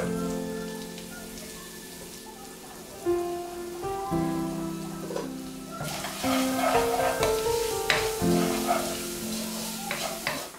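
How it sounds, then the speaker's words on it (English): Onions, salt, pepper powder, turmeric and green chilies sizzle steadily in a pan with curry leaves and dried chilies, a constant crackling fry under background music, growing busier midway. "Now add onions, salt, pepper powder, turmeric powder and green chilies."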